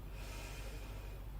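A single deep inhale through the nose during a yoga flow, close and breathy, lasting over a second at low level with no talk.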